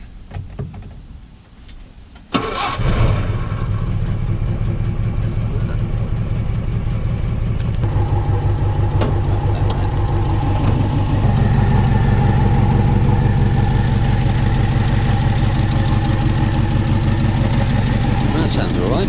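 An Austin Ten Special's engine cranks and catches at about two and a half seconds, then runs at a loud, steady idle close by for the rest of the clip.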